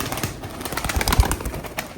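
Pigeons in a loft flutter and shuffle close by, with soft cooing and scattered wingbeats and taps forming a busy, irregular patter.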